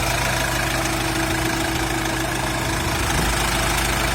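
An Iveco Daily 35 van's diesel engine idles steadily and loudly up close, with an even low rumble and mechanical clatter throughout.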